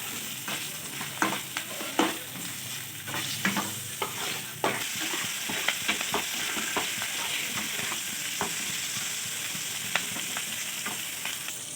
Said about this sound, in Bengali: পেঁয়াজ ক্যাপসিকামগুলো হালকা ভাজা ভাজা হয়ে এলে